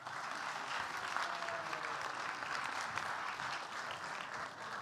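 Sustained applause from a church congregation during a service, steady and fairly distant, with no pauses.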